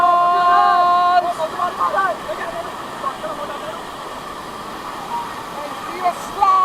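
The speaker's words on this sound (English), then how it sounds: "This is Kuntala" Kuntala waterfall roars as a steady broadband rush of falling water, loud and near, with a tonal whistle-like sound at the start and scattered splashes and distant voices over the constant flow.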